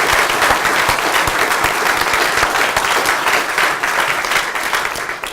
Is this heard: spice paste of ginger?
no